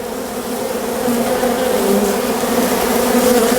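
A dense swarm of honeybees buzzes loudly and continuously during a hive removal, a steady close drone with a low hum that swells slightly as the insects move around.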